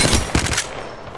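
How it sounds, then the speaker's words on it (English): Gunfire in the Apex Legends video game, a loud, close burst of rapid shots in the first half second that trails off into lingering noise, with no talking. "They're shooting at me!"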